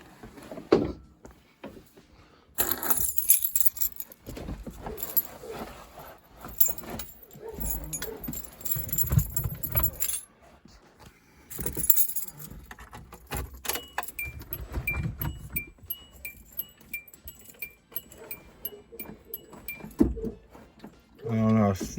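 Car keys jangle and clink near the driver's seat of a Hyundai, irregular metallic rattles and handling noises mixed with shuffling, while a person talks throughout.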